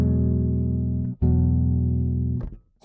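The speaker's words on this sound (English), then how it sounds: "So you have the root, you have the 5th, the 9th, and the major 3rd." A bass guitar plays a chord of root, fifth, ninth and major third, sustained and ringing clearly twice in a row. The second strum follows a short break after the first and fades to silence, with no voices.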